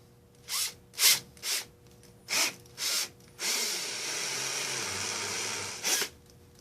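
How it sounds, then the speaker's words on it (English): A power drill with a step drill bit bores a hole for a Dee Zee bull bar and KC LED off-road light install, starting with several short whirring bursts, then one long steady grinding run and a final brief burst. "the step-up bit is our friend here because we can just do one little portion at a time"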